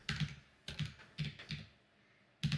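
A prompt is typed on a computer keyboard in quick clusters of soft keystrokes with short gaps and one longer pause, quiet and close, without any speech.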